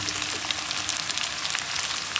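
Colored bell peppers hitting a hot pan for sweet and sour chicken with noodles, giving a steady, dense sizzle and fry crackle close up throughout, with no talking.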